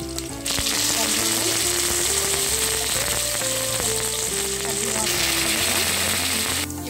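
Garlic hits hot oil already popping with cumin and mustard seeds for a sambar tempering, making a loud, dense sizzle and spatter from start to finish under some faint background tones.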